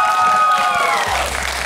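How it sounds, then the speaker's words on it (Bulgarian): Studio audience on a quiz show gives a short burst of applause, dense clapping that fades quickly, with a low hum left underneath. "Аплодисменти за Ева!"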